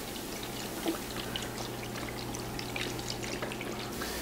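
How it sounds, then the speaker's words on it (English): Vegetable broth is poured into the bottom of a turkey roasting pan, giving a soft continuous trickle over a low steady hum. "We have our vegetable broth, and we're gonna pour this into the bottom."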